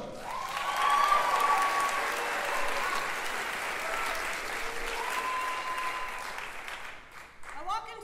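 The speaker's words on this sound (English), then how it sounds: "Ladies and gentlemen, make some noise for Abby Sweats and an uncommon core." An audience applauds and cheers loudly after an eighth-grade spoken word performance, the clapping swelling and holding steady before tapering off near the end.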